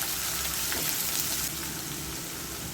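Chopped shallots, garlic, ginger, green chillies and curry leaves frying in hot oil for a moru curry, a steady broadband sizzle that holds evenly throughout with no talking.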